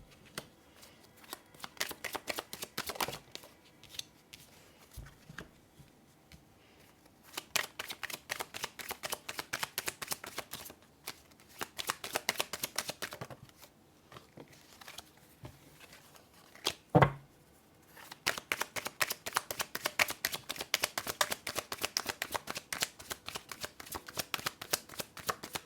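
A deck of tarot cards being shuffled again and again during a reading, with rapid riffling bursts separated by short pauses and one sharp louder snap partway through. The cards sound close and crisp, and no one speaks.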